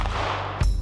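A single loud shotgun blast fired at a turkey during a spring hunt with a decoy set out, a sharp burst near the end of a short, otherwise quiet outdoor moment.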